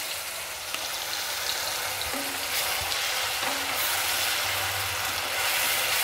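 Green masala paste sizzles in two spoons of oil in a pan over a low gas flame, a steady soft frying hiss with faint stirring scrapes, no voices.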